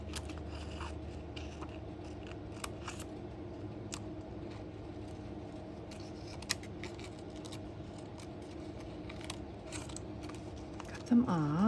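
Scissors cut planner stickers at a crafting desk. The snips come as quiet, scattered clicks over a low background hum, followed by a brief louder rustle at the end.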